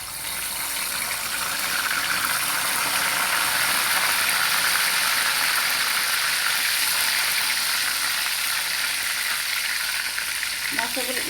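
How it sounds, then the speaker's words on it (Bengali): Chicken korma spices hitting hot oil in a pan and being stirred, a steady loud sizzle that holds evenly throughout with faint scraping at the end, no talk. "আমি এখন মশলাগুলো এখানে অ্যাড করে দিচ্ছি"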